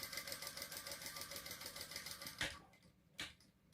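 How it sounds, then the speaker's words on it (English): Sewing machine top stitching a Sedona crossbody bag, a fast even whirring chatter of needle strokes that runs steadily, then stops, followed by two short clunks of handling. "I'm just top stitching them"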